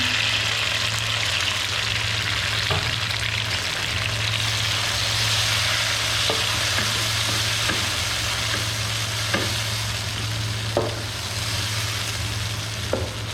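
Tomatoes frying in a pan with light-browned onions for Hyderabadi dum biryani, a steady close sizzle with occasional stirring clicks and a low hum underneath, no voices.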